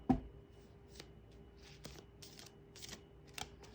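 Tarot cards are shuffled by hand in a quiet room, a sharp first riffle followed by sparse, faint taps and flicks spread over a few seconds.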